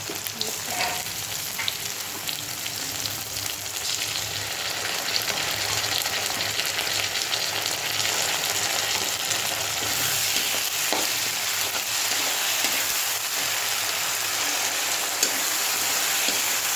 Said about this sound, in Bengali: পেঁয়াজটা ভাজা হয়ে গেছে, লাল লাল মতন হয়ে গেছে। এবার আমি আদা রসুনের পেস্ট,